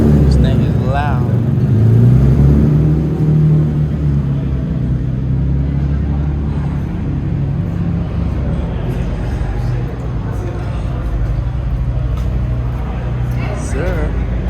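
An Infiniti G35 at a car meet rumbles loud and close, with a rising rev early on, then a sustained heavy exhaust drone, while people talk nearby.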